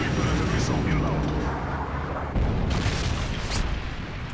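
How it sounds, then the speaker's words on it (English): A predator missile strikes in Call of Duty MW3 multiplayer, giving a dense, rumbling explosion that swells and churns for several seconds under game noise, with a second burst midway and voices in the background. "Friendly predator missile inbound"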